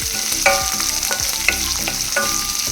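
Chopped onions frying in a pan for quick tomato rice, with a steady close sizzle broken by a few sharp clinks and scrapes of a stirring spoon, no voices.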